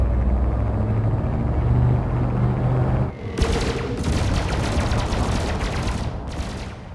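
Ship weapons firing on enemy ships in Elite Dangerous Odyssey, a loud sustained roar of rapid fire broken by a short pause, then resuming in dense pulsing bursts.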